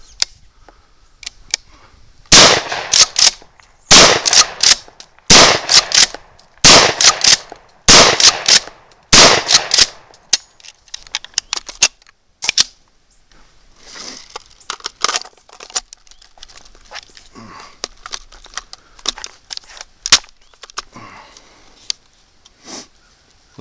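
A Remington 870 DM magazine-fed 12 gauge pump shotgun fires at targets including a milk jug: a quick run of loud, sharp blasts, followed by quieter scattered mechanical clacks and handling noises.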